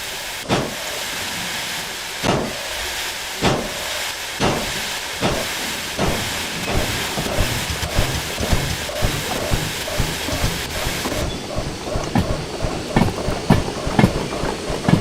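A steam locomotive in the Derail Valley game chuffs steadily with loud hissing steam, regular exhaust beats repeating about once a second over a constant rushing roar, with no talking.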